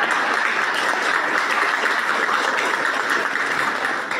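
Loud, continuous applause from an audience at a religious-foundation gathering, a dense steady roar of many hands that tapers slightly at the end.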